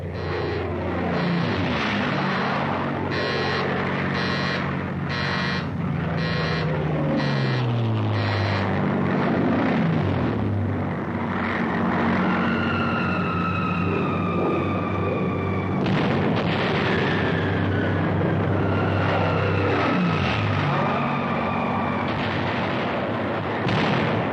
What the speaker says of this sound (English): Suddenly, overhead appear the carrier-based planes of the United States Pacific Fleet.